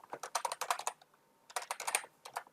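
A password is typed on a computer keyboard in two quick bursts of close, crisp keystrokes, separated by a short pause, with no voices.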